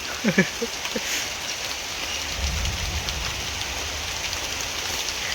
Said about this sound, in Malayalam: ഇന്ന് നല്ല അടിപൊളി മഴ പെയ്യുന്നു